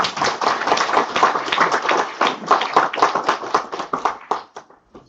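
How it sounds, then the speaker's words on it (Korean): Loud close round of audience clapping at a year-end economics seminar, dense rapid hand claps from a hall full of people that taper off and stop after about five seconds. "여러분 큰 박수 다시 한번 해주시고"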